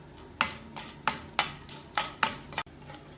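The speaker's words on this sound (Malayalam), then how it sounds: "എണ്ണ ചൂടാവുമ്പോൾ ഇതിലേക്ക് 2 ഏലക്കയും 2 ഗ്രാമ്പൂവും 2 ബേ ലീഫും ഇടാം. ഇത് കുറച്ച് സമയം ഇളക്കി വഴറ്റാം." Cardamom, cloves and bay leaves stirred in hot oil for an egg lababdar curry: six evenly spaced scraping strokes of a spoon against the pan over a faint sizzle, close and clear, with no voices.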